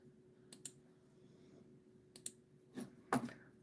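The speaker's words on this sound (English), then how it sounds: "sorry about this viciously clicking sound in your ears" Sharp, dry clicks like keyboard or mouse clicks sound in scattered pairs and singles over a quiet background hum, close and fairly crisp.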